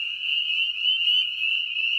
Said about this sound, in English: Peeper on a log.